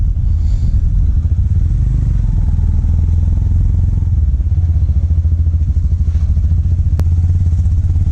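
A motorcycle rides along a muddy mountain road on the way to Badrinath, its engine a loud, close, steady low rumble with rattling clatter from the rough surface, and a brief sharp click near the end.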